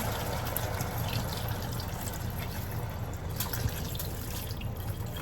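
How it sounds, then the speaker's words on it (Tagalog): Water poured into a cooking pot on a kitchen stove, a steady continuous splashing and trickling that holds at an even level throughout, fairly close, with no voices. "lagyan na natin ng tubig"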